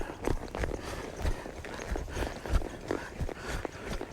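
Horse hooves loping on the ground during a training ride, a steady rolling three-beat clip-clop of dull thuds close by, with faint rider sounds in the background.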